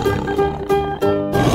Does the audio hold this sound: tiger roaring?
yes